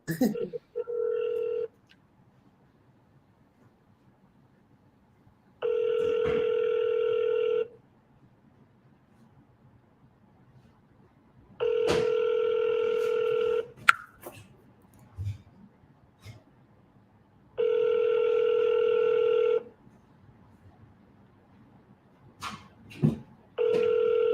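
Ringback tone on an outgoing telephone call, four evenly spaced two-second rings separated by long quiet gaps, clear and close, with a few brief clicks and thumps in between.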